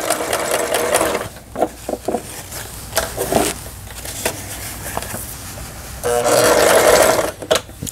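A Yamata FY812 home sewing machine runs a zigzag stitch in bursts, its needle chattering steadily and loudly up close, with brief pauses and small handling clicks between runs.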